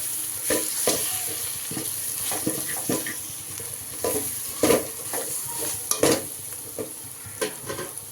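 Spices and coriander powder sautéing in a pan for parotta kurma, a steady sizzle broken by repeated stirring scrapes and light clinks of a spoon against the pan.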